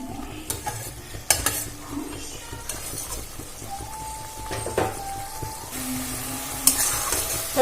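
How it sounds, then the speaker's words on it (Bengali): Fish kalia masala with yogurt being stirred and fried in a pan, a soft continuous sizzle broken by occasional spoon scrapes and light clinks, close and moderately quiet. "আবারও ভালো করে নাড়াচাড়া করে ভেজে নেব"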